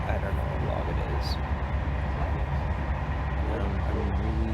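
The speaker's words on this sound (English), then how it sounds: "really exhausted, but I'm on a train." Steady, loud rumble of a passenger train ride in France, a constant low roar of wheels and carriage noise with faint background voices underneath.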